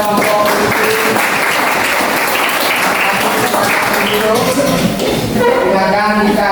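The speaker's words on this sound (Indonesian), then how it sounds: "tepuk tangan dulu buat kelompok puisi." A classroom of students clapping for a poetry group, a dense burst of hand claps that holds steady for several seconds, with voices mixed underneath.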